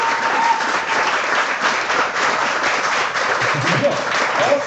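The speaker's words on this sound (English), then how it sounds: "I want to hear an applause for all the guys participating." Audience applause at a live overclocking competition event, continuous loud clapping from a crowd lasting throughout, dense and even with no pauses.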